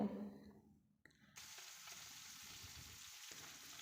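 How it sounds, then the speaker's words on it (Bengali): Soaked cauliflower florets tossed with a little turmeric hit hot oil, a faint, steady sizzle settling into continuous frying after a brief pause. "এবার ফুলকপিগুলোতে সামান্য হলুদ দিয়ে লালচে করে ভেজে নেব"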